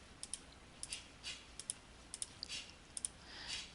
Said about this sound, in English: So you key all that into the calculator, you hit enter